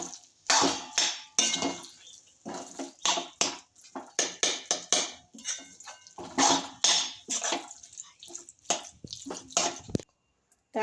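Khandeshi bharit being stirred and sautéed in a pan: irregular scraping and clinking strokes of a spoon against the pan, close and fairly loud, with short pauses between bursts and a brief silence near the end.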